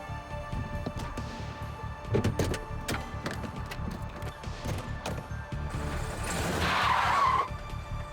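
A getaway car tears off after a robbery, with tyres skidding and scraping over a rumbling engine. The engine rush builds louder and more urgent toward the end, and no voices are heard.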